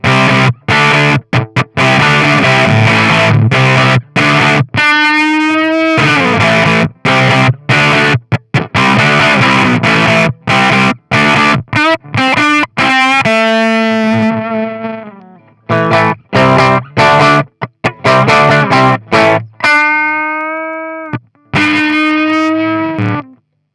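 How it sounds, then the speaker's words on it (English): Electric guitar played through a fuzz pedal and a Laboga Diamond Sound DS-20 amp, thick distorted chords and sustained notes ringing out, loud and close, no talking. "Let's put a fuzz through it."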